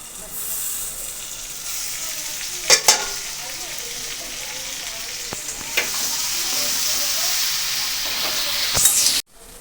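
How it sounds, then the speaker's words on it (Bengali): Goat meat sautéing in a pan gives a steady, close, hissing sizzle throughout, with a few sharp clicks and scrapes from stirring before it cuts off abruptly at the end. "তো এইদিকে দেখো খাসির মাংসটা কষানো হচ্ছে।"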